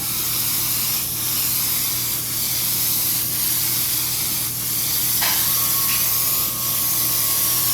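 An airbrush sprays paint in even strokes: a loud, close, steady hiss with slight dips between passes, alone over a low background hum.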